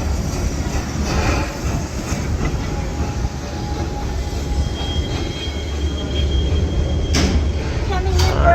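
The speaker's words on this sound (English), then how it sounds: "There goes the train." A train rumbles loudly past, heard from the Skyride at Busch Gardens Tampa Bay, with clattering wheels and brief squeals, a heavy continuous roar filling the scene and rising toward the end.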